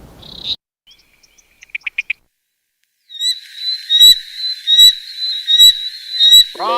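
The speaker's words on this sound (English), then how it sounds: "Frog sound." After a few faint chirps and a short gap, frogs start a loud, close, rapid trilling chorus that carries on without a break, with no voices.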